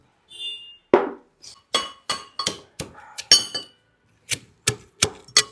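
Sharp, hard thuds of pounding in a mortar strike about a dozen times at an uneven pace, close by, each a short knock with a slight ring.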